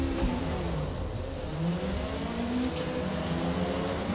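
A 1990 Nissan Pulsar GTI-R race car engine in Forza Motorsport hums and revs steadily, its pitch sliding up and down through gear changes, loud and alone with no talk.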